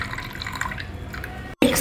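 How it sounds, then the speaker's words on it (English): Water poured from a spoon onto salt and turmeric powder in a small bowl, a close, steady trickling splash that runs briefly before a short break and a final spatter. "Add 2 to 3 tablespoons of water."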